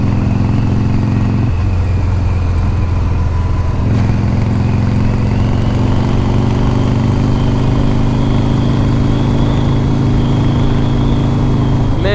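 A 1982 Harley-Davidson FXR Shovelhead motorcycle with a five-speed gearbox idles close by, its low, steady engine rumble continuous throughout.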